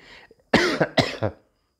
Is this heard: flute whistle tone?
no